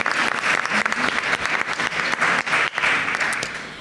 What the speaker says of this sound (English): that deserves clap in and of itself